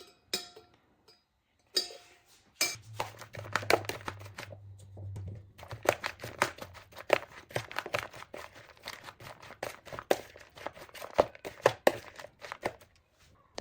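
Chechebsa, Ethiopian torn flatbread, mashed with a spoon while butter is worked in, giving close, rapid scraping and tapping against the dish in busy irregular bursts after a quiet start.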